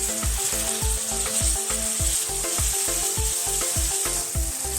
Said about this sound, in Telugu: సో నెక్స్ట్ టొమాటోస్ వేసేస్తున్నాను.